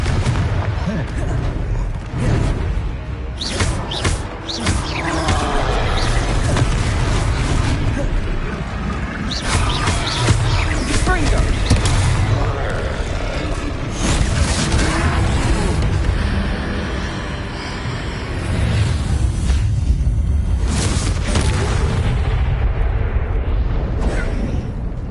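Loud booming spell blasts from the Confringo explosion spell in Hogwarts Legacy, a wizarding video game, bursting repeatedly amid ongoing battle noise and spoken voices throughout.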